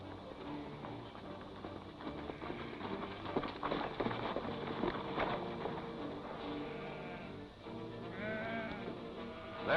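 A flock of sheep bleats over a steady farmyard murmur, the calls overlapping at moderate distance, with one clearer bleat near the end.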